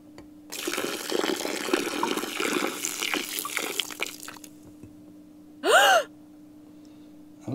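Homemade kefir milk is poured through a strainer that catches the grains, giving a close, continuous splashing trickle for several seconds, followed by a brief sharp breathy gasp-like sound near the end.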